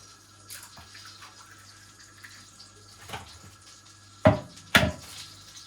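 Eggs for scrambled eggs cracked one after another into a bowl that already holds a dollop of milk: a few soft knocks first, then two sharp, close cracks near the end, over quiet room hum.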